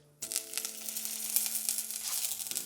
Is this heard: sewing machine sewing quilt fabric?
no